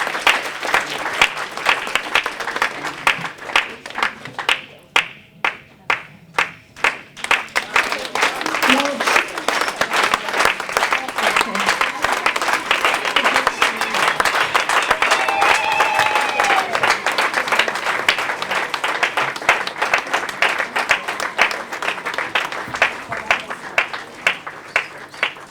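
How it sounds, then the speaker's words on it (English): An audience claps in sustained, dense applause lasting many seconds, loud and steady, with a brief lull early on and voices mixed in. "Let's give her a round of applause."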